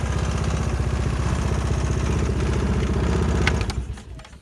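A Kandi 250cc go-kart engine runs steadily at close range, its loud rhythmic mechanical chugging and rattle holding even for several seconds before dropping off quickly near the end.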